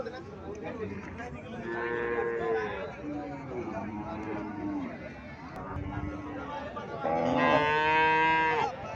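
A crossbred Indian Haryana dairy cow moos repeatedly on a farm in Cumilla, several drawn-out lowing calls in sequence ending in a louder, longer moo, with people talking nearby.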